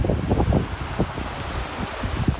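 Strong wind gusting at the seashore during a very low tide, loud close buffeting rumble against the microphone with the faint wash of waves underneath, no talk.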